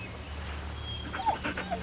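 A dog with its paw stuck in a net in the video game Nightmares From the Deep whimpers in a few short, soft whines over low background music.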